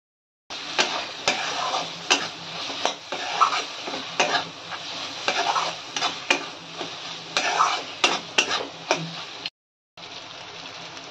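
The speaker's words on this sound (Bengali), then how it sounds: "এখানেই আমি মটনের চর্বিটা দিয়ে দিচ্ছি।" Mutton fat stirred and fried in a pan, with rhythmic spatula scrapes and clanks against metal over a bright sizzle, repeated strokes close up, a brief silent break near the end.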